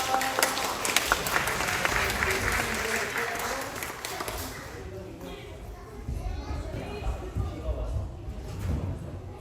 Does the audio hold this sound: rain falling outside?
no